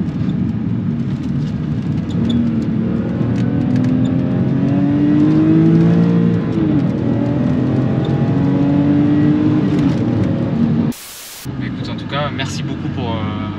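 A BMW engine revs high past 6000 rpm, a loud close-up roar rising and sweeping through the gears before cutting out briefly near the end, with speech at times.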